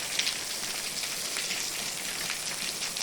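Steady light unseasonal rain patters evenly throughout on farmland, a soft continuous hiss with faint scattered drops and no voices.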